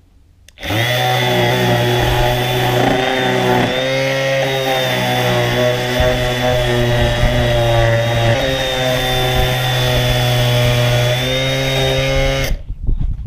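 A powerful power sander fitted with 40 grit sandpaper, set to its lowest speed, runs on the edges of an old bathroom vanity, with a loud, steady high whine for about twelve seconds that starts and stops abruptly.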